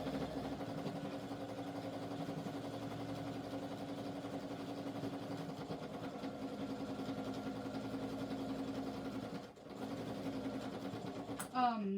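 A sewing machine runs steadily with a low mechanical hum and rapid stitching drone, briefly dipping near the end before a short clatter, with a voice faintly present beneath.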